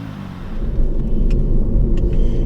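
A stage 2 tuned Audi TT mk2 drives along, its engine a low steady rumble heard from inside the cabin with faint road noise, no talking, and a couple of light clicks near the end.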